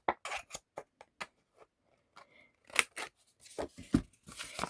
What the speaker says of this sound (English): Just going to round my corners.